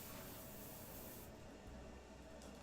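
A spray paint can spraying, a steady hissing jet that cuts off abruptly partway through, followed by a quieter residual hiss and a brief second puff, faint and close, with no talk.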